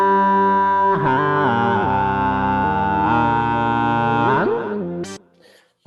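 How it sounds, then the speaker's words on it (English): A sustained, heavily processed voice with robotic pitch-corrected harmonics and gritty distortion, gliding between held notes before cutting off abruptly. "So I put the the auto tune on there, put on distortion."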